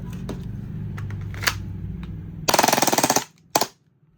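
Airsoft AEG rifle, a CQB-style AK or pistol-caliber carbine, fires a rapid full-auto burst of about a dozen close, loud cracks, then a short second burst, after a low mechanical hum.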